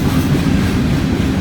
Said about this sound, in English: Empty grain train.